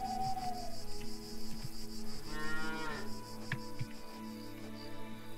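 Cattle mooing inside a cow barn in the farming video game Farmer's Dynasty, one drawn-out low moo standing out over steady insect-like chirping and game ambience, with no talking.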